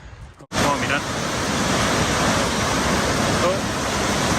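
A mountain waterfall in the Pyrenees, a loud, steady rushing roar of falling water that bursts in after a brief quieter moment and then holds evenly.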